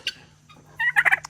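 A hen turkey in a farmyard lets out a short, close burst of rapid gobbling, a quick run of loud clucks after a brief call and a quiet pause.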